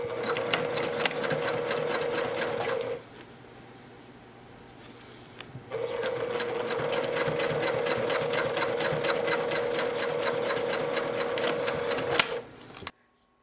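A sewing machine stitches the flaps of a cosmetic bag, its fast rhythmic needle chatter running for about three seconds, pausing, then resuming for about seven more before stopping, close and alone.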